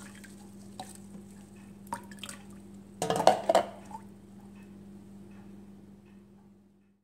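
Eggshell tea being strained for fertilizing cacti and succulents: a soft, faint burst of liquid drips and trickling partway through, with quiet stillness before and after.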